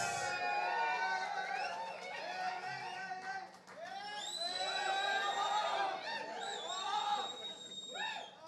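A stage event crowd gathered to welcome actor Allari Naresh cheers, whoops and claps loudly and continuously, with shouts rising and falling across the full stretch.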